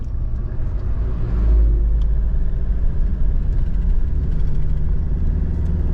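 A truck rumbles past on a road lined with rice warehouses in Isabela, a heavy, low engine drone that swells briefly and then holds as a steady, close rumble.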